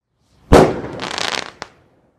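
A 1.3G Epic Bazooka Bomb firework rocket bursts with one sharp loud bang, followed by a second of dense crackling and a final small pop, all heard alone without talk.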